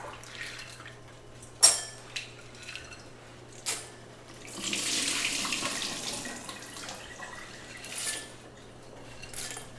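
Beans are rinsed under a running kitchen faucet at the sink, with water splashing and swishing in short bursts, a few clinks of a pot or bowl, and a longer steady stream in the middle; nearby and moderately loud.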